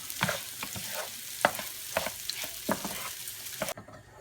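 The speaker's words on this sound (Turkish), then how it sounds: "suyu eklemeden önce çok bol bol karıştırmak. Kavurmak." Vermicelli bulgur pilaf being stirred and toasted in a hot pan before the water goes in, a close, steady sizzle broken by repeated scraping strokes of a spoon, with no talking.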